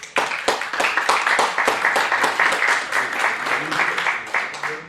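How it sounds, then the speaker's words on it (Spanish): An audience applauds the moderators at a book presentation, steady clapping that swells quickly and holds for several seconds in a hall. "que también les pido un aplauso"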